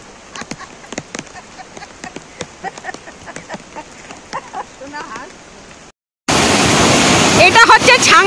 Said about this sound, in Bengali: এটা হচ্ছে ছাঙ্গে ওয়াটারফলস। জাস্ট জলটা একটু দেখুন, কি স্পিডে জল পড়ছে